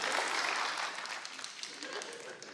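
Studio audience on a Colombian television comedy show applauding for Juanpis, a dense wash of clapping that fades a little toward the end.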